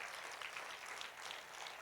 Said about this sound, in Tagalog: Mahina yung palakpak na masisipag.